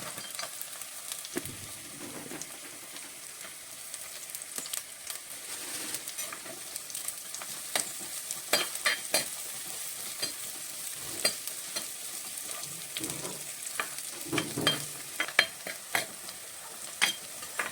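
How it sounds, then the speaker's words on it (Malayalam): Garlic and small onions fry in a pan with a steady close sizzle, broken by repeated scraping stir strokes from a spoon, and no talking. "വെളുത്തുള്ളി ഇട്ട് ചെറിയ ഉള്ളി ഇട്ട് കൊടുക്കാം."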